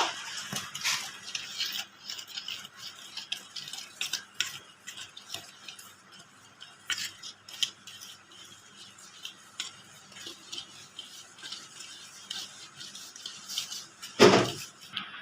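A spoon or whisk clicks and scrapes against a bowl while cake batter of egg and lemon juice is mixed, in irregular close taps and strokes with a louder knock near the end and no speech.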